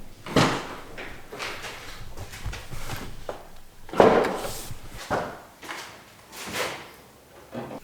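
The trunk of a Honda NSX is popped open, with a sequence of close mechanical clunks, latch clicks and thumps spaced irregularly, the loudest near the middle, and no talking.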